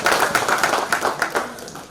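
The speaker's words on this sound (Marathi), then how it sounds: "त्याच्यामुळे त्याच्यासाठी टाळ्या होतात." A group claps at a library friends' get-together at Pune University, a brief burst of quick, overlapping hand claps heard close and fairly loud.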